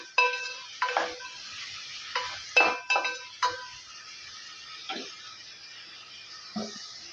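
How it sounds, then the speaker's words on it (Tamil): Vegetables sautéing for sambar with turmeric and asafoetida sizzle steadily in a pan while a spoon scrapes and clinks against the metal in irregular strokes, loudest early and thinning toward the end. "காய் கொஞ்சம் ஓரளவுக்கு நல்லா நம்ம வதக்கி எடுத்துக்கிறலாம்"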